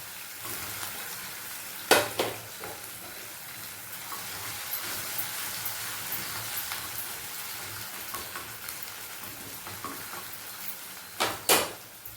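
Chilli chicken with capsicum frying in a pan, giving a continuous hiss and sizzle. A few sharper clattering stirs from the spatula cut in near the start and again near the end.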